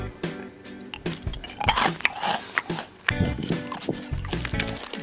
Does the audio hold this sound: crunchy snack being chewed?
yes